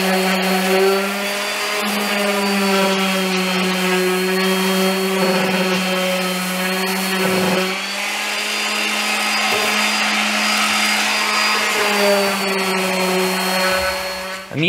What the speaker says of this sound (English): Now I'm going to be sanding down the edges here